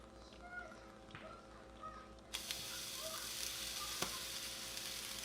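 Rasta pasta with Parmesan being stirred in a pan, a faint background hum that gives way to a steady sizzling hiss about halfway through, with a single sharp utensil knock near the end.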